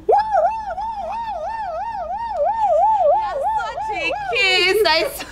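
A voice imitates a siren, wailing up and down in a steady rising-and-falling pattern, ending with a few higher, rougher whoops.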